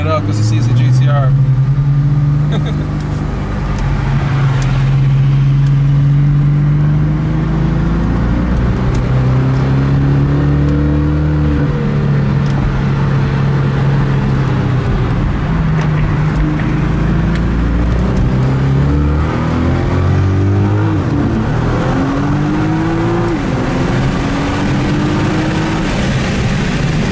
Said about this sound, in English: Got a Honda revving it up because it sees a GTR.